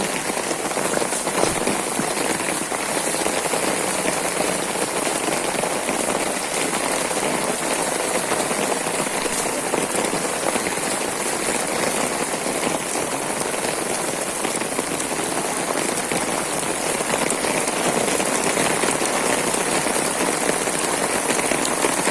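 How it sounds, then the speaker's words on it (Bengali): Heavy rain pours during a flood in Feni, Bangladesh, as a loud, unbroken hiss of drops hitting surfaces that stays constant throughout with no voices. "প্রচুর বৃষ্টি হয়েছে প্রচুর ট্রেনেতে প্রচুর বৃষ্টি হতেছে"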